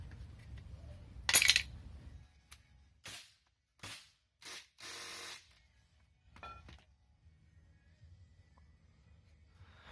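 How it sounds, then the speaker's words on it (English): Work on a VW Passat engine's oil pump gear bolt, a Torx bolt, brings a sharp metallic clank, then several separate short scraping and ratcheting bursts up close in an otherwise quiet workspace. "Removing the gear for the oil pump now."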